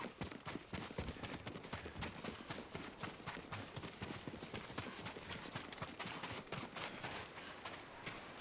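Horses' hooves in Ghost of Tsushima, a continuous quick clip-clop of galloping hoofbeats, dense and even, set against a busy outdoor game ambience at low level.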